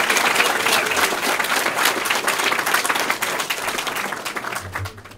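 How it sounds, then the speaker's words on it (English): Crowd clapping and cheering after a wrestler's college announcement, a dense, fairly loud burst of applause that thins out toward the end. "you can clap."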